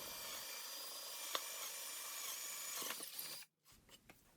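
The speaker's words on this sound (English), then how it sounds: "A quick drill of the center." A power drill bores a 5/16 hole through the centre of a piece of wood, a steady close whirring grind lasting about three seconds before cutting off. Faint handling knocks follow.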